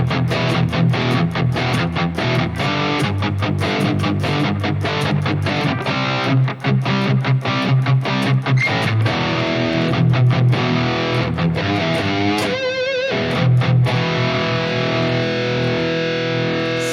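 Distorted electric guitar plays through a Fractal FM9 amp preset, a loud, continuous, driven riff with sharp rhythmic chugs and sustained chords, heard alone without talk for the whole stretch.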